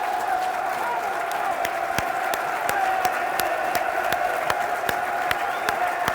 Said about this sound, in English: This is the applause of Matt Smith's young son